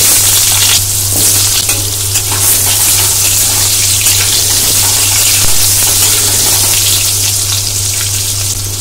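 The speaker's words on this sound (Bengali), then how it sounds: "এবার আমি এখানে কেটে রাখা আলু দিয়ে দিচ্ছি।" Cut potatoes fry in hot oil in a pan for a Bengali fish curry with drumsticks, a loud, dense, continuous sizzle and crackle close by, with no talking.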